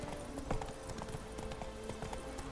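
Quick, evenly spaced hoofbeats from Roach the horse trotting in The Witcher 3, a short clip-clop run heard close over a low game background.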